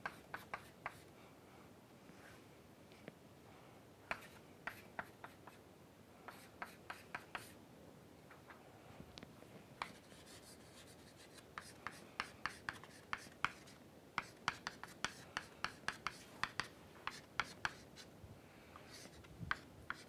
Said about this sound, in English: let me write it in this form